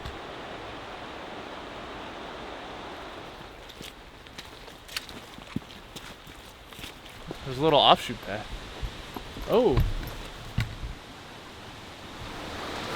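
Steady broadband rushing of a stream near Marcy Dam in the Adirondack High Peaks fills the background throughout, with footsteps and a few brief spoken words partway through.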